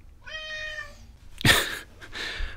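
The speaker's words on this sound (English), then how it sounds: "That is an interrupting cat." A cat lets out a drawn-out, tonal meow, then a couple of shorter, rougher cries follow close by and fairly loud.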